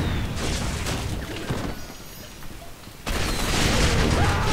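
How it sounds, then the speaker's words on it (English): A player's own mine detonating in the Gotham City Impostors shooter: a loud, broad explosive burst that breaks off, a lull with fading debris, then a second heavy roaring blast that sustains near and loud to the end. "Pretty sure my own mine blew up on me"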